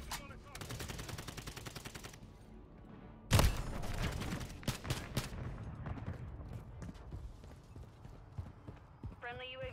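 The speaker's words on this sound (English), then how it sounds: "Assault rifle." Assault rifle fire in the Call of Duty video game, with a loud burst of shots cutting in over a busy battle mix of rapid gunfire, clatter and background noise, followed by scattered sharp reports.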